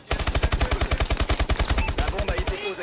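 Rapid automatic gunfire in a competitive tactical shooter match at a LAN tournament, a loud steady burst of evenly spaced shots running nearly three seconds with no pause, heard alone with no talk over it.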